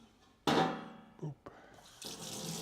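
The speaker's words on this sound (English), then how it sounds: "Wash off our teaspoon here real quick" Tap water runs into a kitchen sink as a teaspoon is washed, with a sudden close rush of water, brief clinks and splashes, then the flow starting again.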